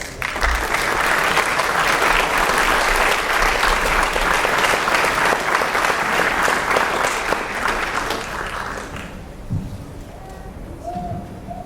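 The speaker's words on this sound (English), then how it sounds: "So let's give them a round of applause." Sustained, loud applause from a crowd at a county school board meeting honoring staff, many hands clapping steadily for about nine seconds before fading into room noise and a few small sounds.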